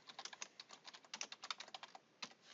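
Typing on a computer keyboard, a quick irregular run of light key clicks, close but quiet, with a brief pause before a final few taps.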